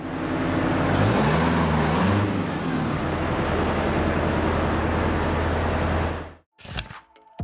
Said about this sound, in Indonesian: bus tersebut sangat berhati-hati saat ingin masuk ke dalam terowongan